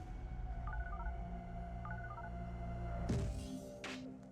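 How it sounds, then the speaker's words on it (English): Telephone number dialing: two short bursts of touch-tone beeps over a low steady background hum, followed by a couple of brief clicks or handling knocks near the end. "picks up his phone, and dials the number of Special Agent Force."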